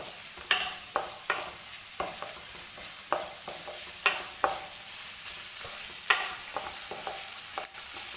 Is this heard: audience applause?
no